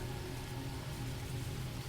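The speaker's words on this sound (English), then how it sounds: "Rain beads along the wood grain." Steady rain falls on wood beside a lantern-lit post, a soft, even hiss with no distinct drops and no voices.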